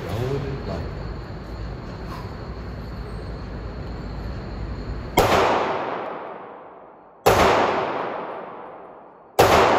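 Three loud, sharp Ruger MAX9 pistol shots at an outdoor shooting range, fired about two seconds apart, each with a decaying echo. Steady wind-like noise and background talk come before the first shot.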